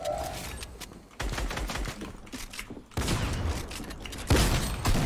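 A fusillade of rapid gunfire from a shooter video game plays as loud, dense bursts of repeated shots in several back-to-back volleys, close and continuous for the whole stretch.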